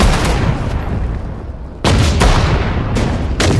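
A frag grenade detonates in Sudden Strike 4's Finnish winter battle, with sharp booming blasts punctuating dense distant gunfire; loud, repeated impacts of wartime strategy combat with no one speaking.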